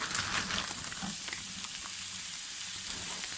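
Minced meat, about 300 grams, sizzles steadily in a pan of olive oil, a dense close crackle with small spits and clicks running evenly throughout, no voices.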